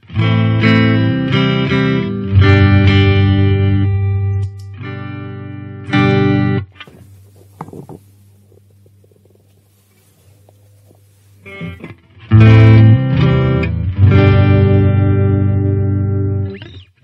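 An electric guitar run through a simple op-amp booster rings out in loud, bright, distorted chords and notes, dropping to a quiet sustained tone midway before strong strummed chords return, with no talking.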